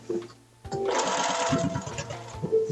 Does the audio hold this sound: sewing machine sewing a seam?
yes